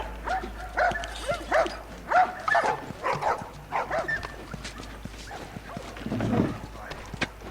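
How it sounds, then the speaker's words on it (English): Several dogs bark and yip in a rapid run, with whimpers mixed in, in the video game The Last of Us. The barks are moderately loud and fairly close, followed by a low rumble near the end. "Doggies"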